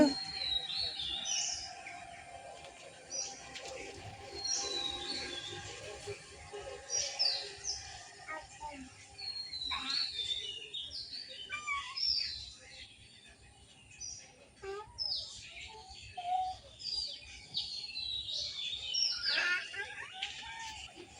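Several birds chirp and trill in quick, scattered calls throughout, with moderate loudness over a soft outdoor background.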